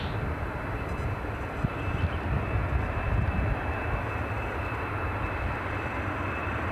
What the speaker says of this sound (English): let's seek out our Helsinki bound Embraer